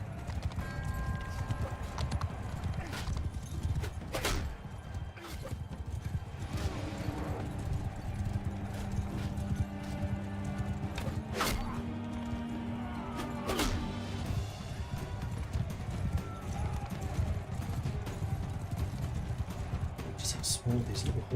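Rapid hoofbeats clatter as horses gallop in Mount and Blade II: Bannerlord, with occasional whinnies and sharp impacts mixed in, continuous throughout, alongside game-like sound effects.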